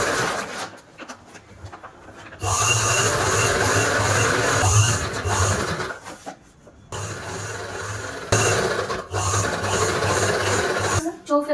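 A sewing machine stitching a cloth bag, its steady whirring hum running in two long bursts with short pauses between them, under a quieter stretch at the start.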